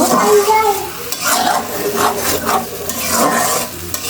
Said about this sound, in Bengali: তো এখন এই পেঁয়াজ আদা ভালোভাবে কষিয়ে নিব